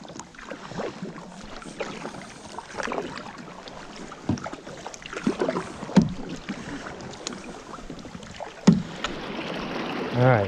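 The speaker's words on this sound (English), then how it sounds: "I'm hitting my paddle on the ground" Kayak paddle knocking against a shallow creek bottom on a cold morning, a few dull thuds among paddling splashes and wind noise, with faint talk.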